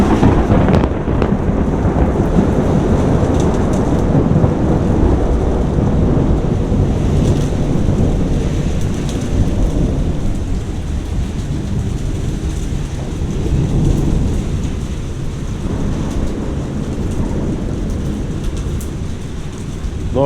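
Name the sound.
thunderstorm with heavy rain in Paraguay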